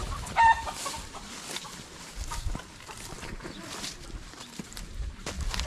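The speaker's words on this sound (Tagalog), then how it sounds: "daming manok" Chickens cluck and murmur softly across the clip, moderately near, amid outdoor background noise.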